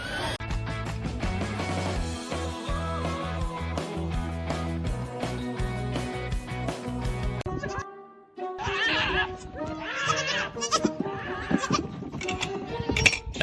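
Goats at a goat farm bleat in short bursts over loud, steady background music, with the calls growing more prominent near the end.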